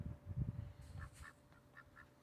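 Short honking quacks from a few ducks, a handful of calls spaced out after a brief low rumble, moderately close and not very loud.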